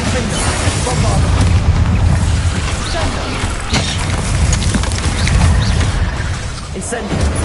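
A Bombarda spell explodes in the video game Hogwarts Legacy, its deep boom buried in a loud, constant wash of spell effects and battle noise.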